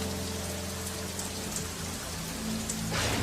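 Steady rain falling and pattering on surfaces, close and even throughout, with a brief louder gush near the end and no voices.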